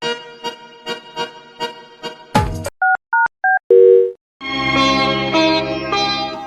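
A telephone call being placed: rhythmic ringback pulses, then a sharp burst, a few short beeping dial tones and a steady tone, before a voice answers on the line.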